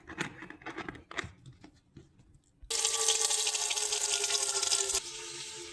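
A few light clinks and taps, then water gushes steadily into a cooking pot holding rice, cardamom, whole black pepper, bay leaves, salt and a little oil for lamb biryani, easing to a softer pour near the end.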